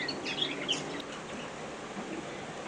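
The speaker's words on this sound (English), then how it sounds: "We've got 3 cock birds and 1 hen." Young current-year canaries or similar show birds, three cocks and a hen in small show cages, give a few high, thin chirps and tweets over a quiet room hum, brief and fairly close.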